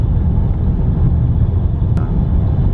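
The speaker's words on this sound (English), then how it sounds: "I'll let you guys hear what that misfire sounds like." A car engine idles with a steady low rumble that sounds uneven and rough, close up, with one brief click partway through.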